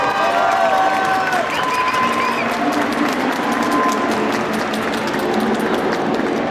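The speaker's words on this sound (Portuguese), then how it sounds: "Palmas para eles" A large convention crowd at an anime event claps and cheers continuously, a dense, loud wash of applause with scattered shouts throughout.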